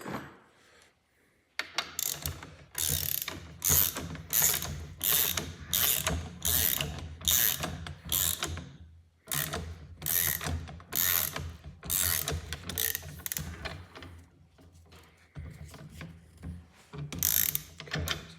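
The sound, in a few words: socket ratchet tightening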